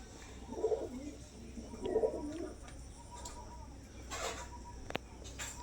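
Adult female Kalanka pigeons in a sale pen give two soft, low coos near the start, followed by quieter shuffling over a steady background hum.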